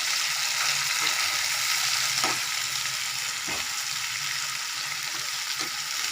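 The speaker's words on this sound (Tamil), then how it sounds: "நல்லா வதங்கணுங்க இது." Onions and tomatoes sizzle steadily in hot oil while being sautéed for vegetable kurma, with a few soft stirring scrapes of a spoon against the pan, close and continuous with no voices.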